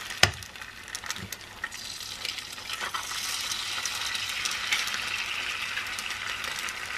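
Eggs cracked into a greased pan fry with a steady, broadband sizzle that builds and holds for several seconds, with a sharp tap or crack near the start and no talking.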